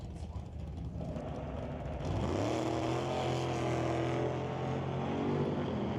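Drag race between a roadster and a Chevrolet S10, a steady loud engine roar that climbs in pitch as the cars accelerate away, with a sustained droning tone.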